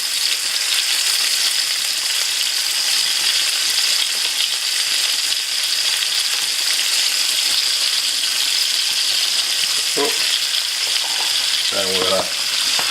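Lamb rump and onions fry in a pan with a loud, steady broadband sizzle throughout, broken near the end by a few short clatters and scrapes of stirring.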